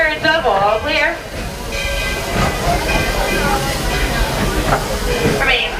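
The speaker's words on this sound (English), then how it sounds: "As we approach the station, please remain seated until the train comes to a full and complete stop." The Walt Disney World Railroad steam train rolls into Main Street Station with hissing steam and a squealing, rumbling approach, under an announcer's voice and nearby talk.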